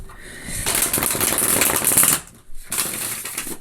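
Tarot cards riffle-shuffled in two quick bursts, a dense crisp fluttering close up with a short pause between them.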